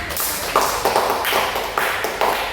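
A small group in a classroom counseling session claps together, making a fairly close, uneven patter of hand claps that swells in short bursts without pause.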